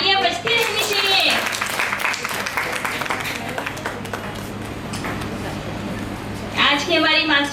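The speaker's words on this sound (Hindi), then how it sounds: "तालियां बजती रहनी चाहिए।" Steady clapping from an audience at a women's club founding-day ceremony runs throughout, loud and continuous, while a voice speaks over it at the start and again near the end.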